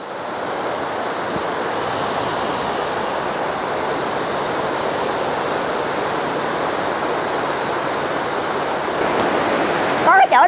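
A forest stream flowing close by, where mushrooms are being rinsed, giving a steady loud broadband rush of water that stays constant throughout, with a brief clatter near the end.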